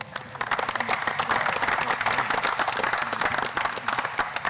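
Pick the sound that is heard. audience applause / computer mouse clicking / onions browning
audience applause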